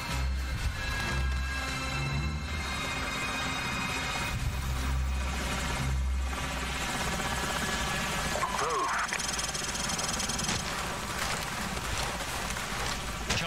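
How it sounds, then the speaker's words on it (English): Enemy helicopters fly overhead in the video game Call of Duty 4, a steady rotor drone under a dense battle mix with a voice speaking over it. "Enemy helicopters."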